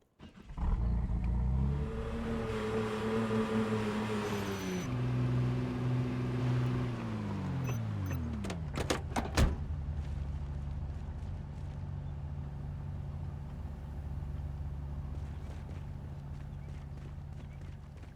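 Engine of a car driven around in a video game, a steady motor drone whose pitch climbs and falls through gear changes, loud at first, then settling into an even hum, with a few sharp clicks midway.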